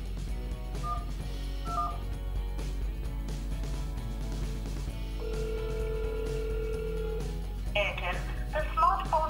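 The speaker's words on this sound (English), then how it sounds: "Let me quickly make a call and put it on speakerphone to give you an idea of how good the call clarity is." A phone call is placed on a Huawei Honor 6 over speakerphone: a short series of dialing beeps, then a long steady tone, then chirpy ringing, all under faint background music.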